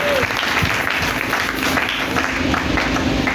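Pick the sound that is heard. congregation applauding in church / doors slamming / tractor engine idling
congregation applauding in church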